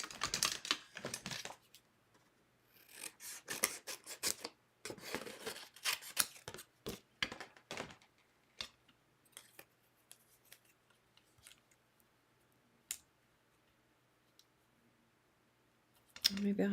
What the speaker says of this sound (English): So I'm going to cut that out with the tag.